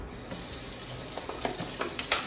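Tap water runs steadily into a sink over spring-mix salad leaves with spinach, a close, even gushing hiss with faint splashes and rustles as the leaves are rinsed.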